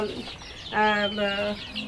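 Tiger and Fayoumi chicken chicks cluck in short, close, harmonic calls, several in quick succession, over a low background hum.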